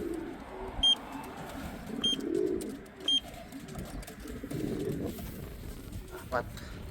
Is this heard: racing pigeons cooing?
yes